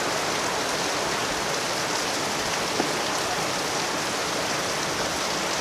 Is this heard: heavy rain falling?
yes